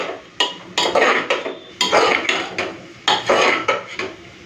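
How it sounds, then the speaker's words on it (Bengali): Banana flower frying and being stirred in a pan with a utensil, close scraping and clattering strokes in uneven bursts over a sizzling bed, no talk. "প্রথমে ভালো করে কষে নিই"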